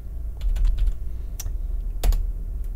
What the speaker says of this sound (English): To open home first, you're going to type cd in front of it,